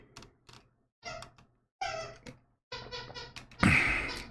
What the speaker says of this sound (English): you can hear Gremlin right now playing behind me